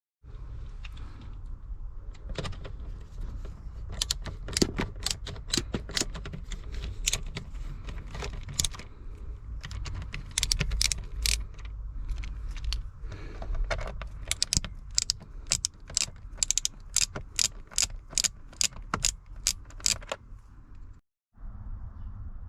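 Small Torx screws worked out of the ignition switch panel on a Ford Transit Mk7, with sharp metallic clicks and ratcheting taps in quick runs and a few jangles, close and alone.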